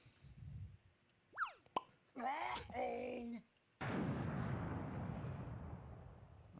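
Bomb blast in the video game Link: The Faces of Evil, a sudden burst followed by a long noisy rumbling decay, preceded by short cartoonish boss sound effects.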